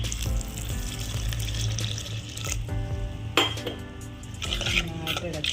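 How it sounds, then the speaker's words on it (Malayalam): Water pours into a pan of prawn curry with turmeric and chilli powder, a steady wet splashing over clinks of pots and utensils and a brief sharper clatter midway, close and moderately loud. "ഇതിലേക്ക് അല്പം വെള്ളം ഒഴിച്ചു കൊടുക്കാം"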